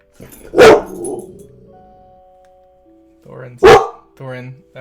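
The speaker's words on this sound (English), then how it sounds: "Neighbor dog is barking and Thorin did not like it." A neighbor's dog barks twice, each a loud sharp bark a few seconds apart, with quieter background sound and voice-like murmuring around them.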